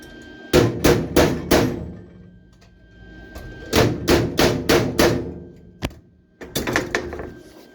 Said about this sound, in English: That's the hammer Craig McGee gave me years ago.